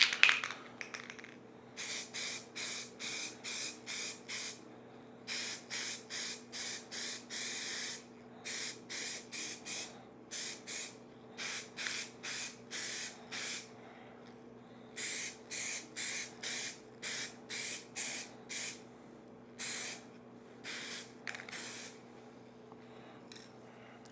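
Spray paint hissing from an aerosol can in short bursts, roughly one per second in clustered runs with brief pauses, close and steady over a low background hum, used while coating a hydro-dipped object.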